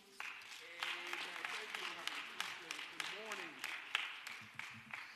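A church congregation claps hands in scattered, sharp bursts as a voice sings or speaks over them.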